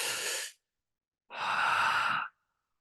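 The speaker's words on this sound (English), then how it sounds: "Take a deep breath." Deep breaths taken during a guided emotional-release exercise: the end of one exhale, a silent pause, then one long, close breath lasting about a second. There is no speech.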